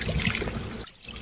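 Running water at Hibiscus Camp in Tigaon, a steady close wash and trickle of flowing water that thins out briefly near the end.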